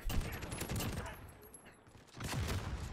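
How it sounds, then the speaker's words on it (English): Bursts of rapid gunfire with RPG blasts in a Warzone video game match come in two clusters separated by a quieter gap, moderately loud and rattling. "Got RPGs being shot at us."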